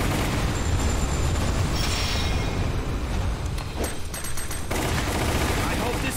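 Rapid gunfire and booms from a Resident Evil video game as the player shoots down rockets, a dense continuous barrage with heavy low rumble. Sharp bursts punctuate it throughout.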